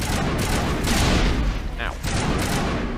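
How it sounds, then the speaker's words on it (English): Heavy, rumbling grenade blasts in Mass Effect, thick and continuous, rolling over one another amid combat noise, with a voice faintly present underneath. "I'm throwing grenades"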